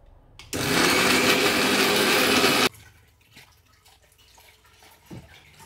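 A kitchen mixer grinder runs on hot onion and tomato, giving a loud, steady whirring roar for about two seconds before stopping abruptly into quiet room sound.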